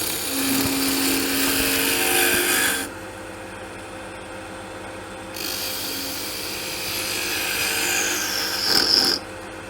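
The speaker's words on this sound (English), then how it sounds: "we're just going to take a peeling cut" A woodturning lathe takes a peeling cut on a wooden gnome blank, a steady broadband rasping scrape that runs for several seconds, drops out briefly, then resumes with a sharper squeal near the end.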